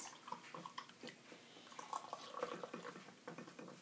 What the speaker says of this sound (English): Put the hot water in, and really I want cold.